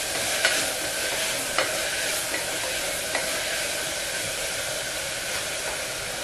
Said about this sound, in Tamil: போட்டுட்டு நல்லா நம்ம வதக்கிடலாம்.